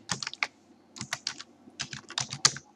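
Fingers type on a computer keyboard, with quick bursts of crisp, close key clicks separated by short pauses and no talking.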